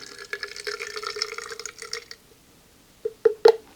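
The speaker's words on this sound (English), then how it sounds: "So I'll pour that into my spray bottle." Homemade CA glue activator trickles and gurgles into a narrow spray bottle with a rising pitch, then a pause and a few short, sharp splashes and drips.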